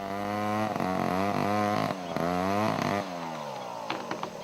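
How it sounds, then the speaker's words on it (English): Chainsaws clearing a former rubber plantation inside a national park in Cambodia, a steady buzzing engine that rises and falls in pitch as it revs and cuts, heard alone without talking. "This time, the chainsaws are working legally."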